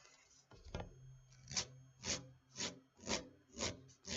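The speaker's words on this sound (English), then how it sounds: "Now I'm going to go back and file the first one." A Jamberry nail wrap on a toenail is filed in six rhythmic, evenly spaced rasping strokes, close and quiet, with no talking.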